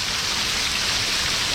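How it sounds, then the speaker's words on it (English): Hail pours down in a dense, steady hiss of countless tiny impacts, a loud continuous wash with no breaks. "that is all hail now."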